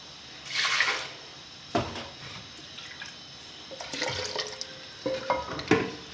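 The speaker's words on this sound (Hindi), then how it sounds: "थोड़ा सा पानी ऐड करते हैं।" Water poured into kadhi in a pan and stirred, giving brief splashes and sloshing bursts between quieter pauses, with clinks of utensils toward the end.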